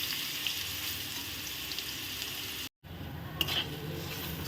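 Jackfruit paste frying in a pan, a soft steady sizzle at low volume with faint stirring, briefly cut to silence midway before resuming with a light scrape.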